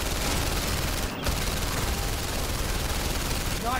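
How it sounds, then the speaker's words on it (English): Celebratory gunfire shot into the sky in the PSVR Worlds game London Heist, heard as a dense, continuous loud automatic fusillade filling the whole stretch without pause. "Celebratory shooting up in the sky."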